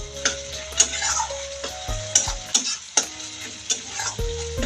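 Fish fries in hot oil for an onionless fish tel jhal, with a soft sizzle and a run of sharp ticks and clinks from stirring, each one close and distinct.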